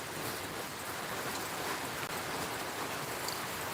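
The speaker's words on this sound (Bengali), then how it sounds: "আমাদের এদিকে প্রচুর বৃষ্টি হচ্ছে" Steady downpour of heavy rain, a thick continuous wash of noise with occasional brief taps, unbroken throughout.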